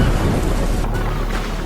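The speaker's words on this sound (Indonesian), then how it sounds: "Badai datang tanpa permisi." A storm at sea off a remote Riau island, with heavy rain pounding a boat and a low rumble of thunder, loud and steady and dense throughout with no voices.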